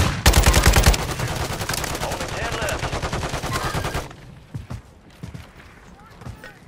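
Gunfire in the video game Call of Duty rattles in rapid, dense automatic bursts, loud and close for several seconds, then drops to scattered faint shots and footsteps, with voices talking.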